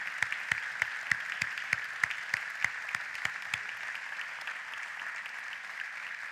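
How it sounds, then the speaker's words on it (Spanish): A church congregation applauding, a steady crowd clapping with a few sharp louder claps in the first half over a sustained tonal background, moderately distant. "Dale un fuerte aplauso al Señor."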